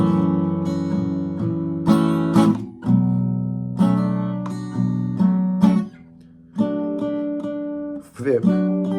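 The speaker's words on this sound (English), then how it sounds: "actually, I'll just show you a run through of the 3 chords so you remember." Acoustic guitar strumming a run through three chords of a song, with ringing chords struck in turn, each left to sustain and decay, and brief pauses and string squeaks between changes.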